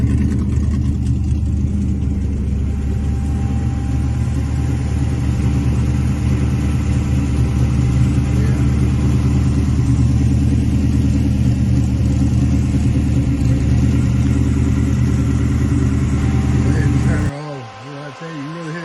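A Charger car engine runs steadily nearby, a constant low mechanical hum with people talking over it, then it cuts off near the end.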